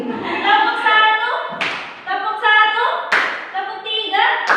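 Hands clap in quick bursts of sharp, rhythmic beats, with a voice counting or chanting between the groups of claps.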